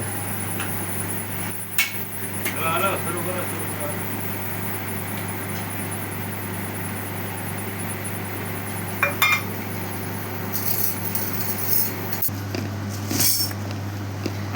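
Bhel puri is mixed with chili sauce in a bowl, with scattered metallic clinks and scrapes of a spoon against the bowl over a constant low hum, with a cluster of brighter clinks near the end.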